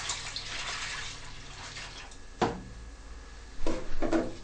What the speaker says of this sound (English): The desired quantity of cold water is added first.